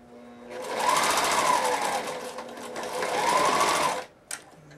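A sewing machine stitches fabric in two long continuous runs of steady, fast mechanical whirring, close and loud, stopping abruptly near the end with a brief click.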